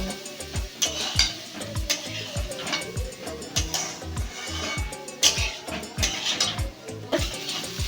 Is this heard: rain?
no